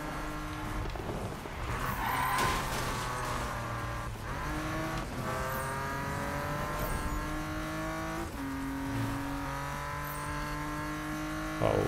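A Porsche RSR in the Need for Speed 2015 video game drifts with its tires skidding continuously, under a steady roaring engine that rises and falls with short revs, loud and close throughout.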